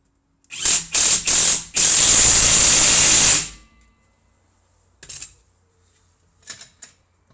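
A bolt on an Opel Corsa with a three-cylinder engine is tightened with a ratchet or impact tool: three short bursts and then a longer burst of loud rattling. After that come two faint brief clicks, close by, and no talking.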